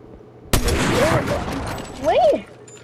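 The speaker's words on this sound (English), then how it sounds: "Someone's shooting at me" Video game gunfire in Fortnite breaks out in a sudden burst of shots and keeps rattling, while a player's voice talks over it.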